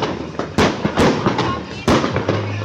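Fireworks exploding outdoors, with several sharp loud cracks and pops spaced irregularly, two especially strong bangs, plus a steady low hum underneath.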